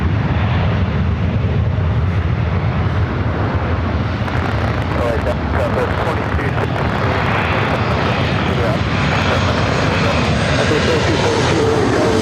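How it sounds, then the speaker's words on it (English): Alaska Airlines Boeing 737-900ER jet arriving from Fort Lauderdale, a loud, continuous engine roar close by that swells slightly partway through and stays strong to the end. "This arrival is Alaska Airlines 936 coming in from Fort Lauderdale, on the 737-900ER."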